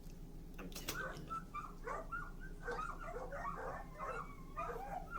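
Several dogs, nineteen in all, bark, yip and whimper in a dense, continuous jumble at moderate distance, with a low steady background hum beneath the restless calls.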